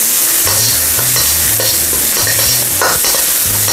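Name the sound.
onion sautéing in oil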